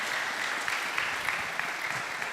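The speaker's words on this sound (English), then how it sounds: "So let's give them the big applause for our distinguished speaker." A conference room full of people claps steadily for a speaker, a dense patter of hands holding even throughout at moderate loudness.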